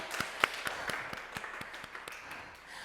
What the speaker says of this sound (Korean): 우리 하나님께 다 같이 영광의 박수